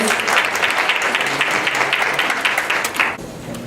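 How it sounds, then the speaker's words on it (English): Audience applause at a book festival, a steady dense wash of clapping from a crowd that tapers slightly near the end. "So please give these lovely ladies a round of applause"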